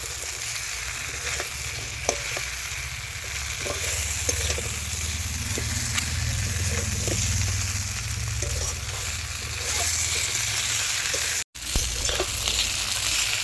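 A fish head sautés with spices and other ingredients in a pan for a Bengali muri ghonto, giving a steady close sizzle with scattered stirring scrapes and clicks throughout, plus a brief dropout near the end.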